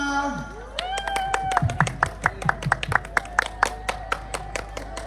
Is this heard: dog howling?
no